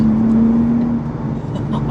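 A new Nissan Z sports car drones loudly from inside the cabin under acceleration, a steady engine hum with a strong low tone that holds for about a second, then eases into a rougher, lower rumble.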